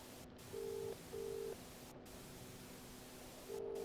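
A video game phone call actively connecting, steady electronic tone pulses, a short pair of beeps then another, repeating over a faint hissing line, no one talking.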